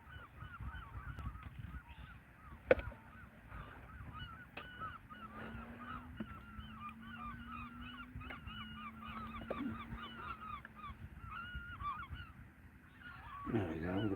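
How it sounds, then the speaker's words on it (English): Seagulls call repeatedly over the water, faint and distant cries in a steady chorus behind a low droning hum, with no talk. "Seagulls are coming out here."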